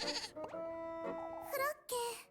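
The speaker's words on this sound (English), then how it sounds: "Ah, goat noises." Goat bleats from a video game, a wavering harmonic bleat followed by a couple of shorter bursts, heard alongside a voice talking.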